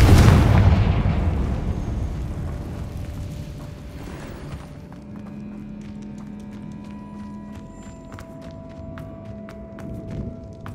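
A Confringo blasting spell explodes in the Hogwarts Legacy video game, a loud burst whose rumble fades away over about four seconds, followed by a faint steady tone and light scattered clicks.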